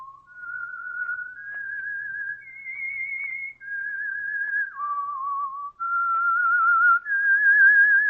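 A single person whistles a slow, melodic tune alone, the theme of 1947 radio drama The Whistler, clear and close, moving through sustained notes with short breaths between phrases.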